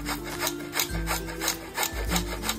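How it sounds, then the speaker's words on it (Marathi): Peeled raw mango rubbed against a hand grater in a home kitchen, giving steady, rhythmic rasping strokes about twice a second, close and clear with no talk. "आता ना किसणीच्या साहाय्याने ही कैरी आपल्याला किसून घ्यायची आहे।"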